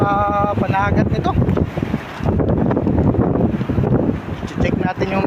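Gusty sea wind roars against the microphone while big waves surge behind, loud and constant; someone talks over it at the start.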